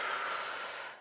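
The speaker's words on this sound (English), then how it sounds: "And then a big inhale. Strong, steady exhale." A strong, steady exhale during a yoga session: one breathy hiss of air pushed out through the nose or mouth, close and fairly quiet, fading over about a second.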